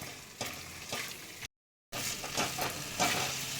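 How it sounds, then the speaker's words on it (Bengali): Paneer frying in spiced masala in a pan: continuous close sizzling with stirring scrapes. A short silent gap breaks it midway, and no one speaks. "এবার আমি পনিরটা দিয়ে দিচ্ছি পনিরটা দিয়ে আমি কিছুক্ষণ কষিয়ে নেব"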